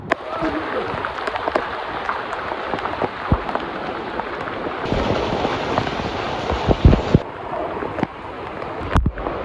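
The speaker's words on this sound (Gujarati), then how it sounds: "વરસાદ તો બંધ થવાનું નામ જ નથી લેતો" Steady heavy rain hisses and patters continuously in Savarkundla, Gujarat, with occasional louder splashes and knocks standing out from the downpour.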